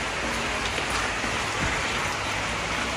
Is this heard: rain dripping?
yes